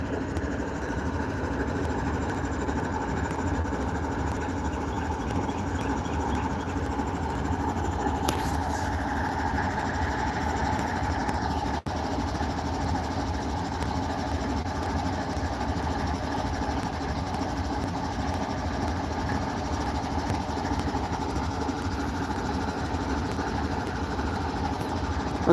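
A CSX train locomotive sitting idle beside a building, its engine giving off a steady, continuous low rumble with a constant hum throughout and no speech.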